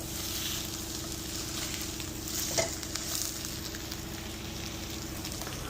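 Sous vide top round steak sears in a skillet, giving a steady, close sizzle and crackle that holds throughout, with one brief louder pop midway and no voices.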